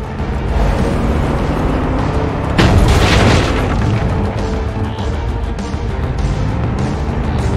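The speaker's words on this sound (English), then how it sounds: "Our hero hits the jump and wham! There's an explosion!" In the game Far Cry 5, a vehicle hits a jump and a single heavy explosion bursts out, a deep, loud boom that rises sharply and then trails into a rumbling decay under ongoing game noise.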